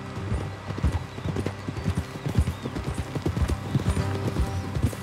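Horse hooves clip-clop steadily in an uneven trot in Red Dead Redemption 2, fairly close, with faint low rumble and scattered background noise and no talking.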